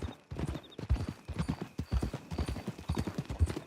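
Horse hooves clip-clop at a steady walking pace, close and distinct, with a faint voice briefly in the background, in the video game Red Dead Redemption 2.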